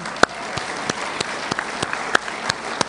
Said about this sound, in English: definitely deserving of another round of applause